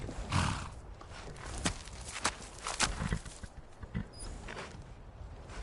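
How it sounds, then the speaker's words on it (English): A saddled war horse in the Skyrim video game, its hooves clip-clopping in steady steps with a few snorts and whinnies, fairly close against a soft ambient game backdrop. "Man like you needs a war horse, I reckon."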